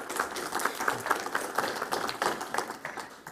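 A seminar audience claps for a fraud-in-public-places talk, light scattered applause from a modest crowd lasting a few seconds.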